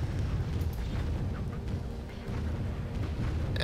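Mortar rounds (pepper pot) bursting in the video game Warzone 2100, a steady heavy rumble of low booms and explosions with scattered sharper cracks, loud and continuous over a few seconds.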